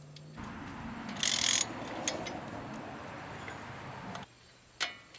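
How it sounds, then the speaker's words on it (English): Close mechanical rattling and a ratcheting burst as bolts are put back and tightened on a car brake, with a few metallic clicks and a sharp tap near the end. "We're just putting these bolts back in place here."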